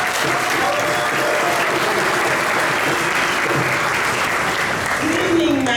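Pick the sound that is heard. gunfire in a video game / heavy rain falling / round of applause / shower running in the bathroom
round of applause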